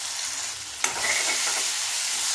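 Crushed green chillies hit hot oil with garlic already roasted, setting off a sudden loud sizzle after a quiet start that holds as a steady bright hiss, with a light stir, while cooking kadhi for kadhi khichdi.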